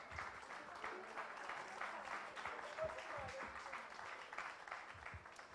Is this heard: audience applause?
yes